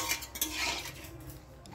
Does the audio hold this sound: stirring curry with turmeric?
yes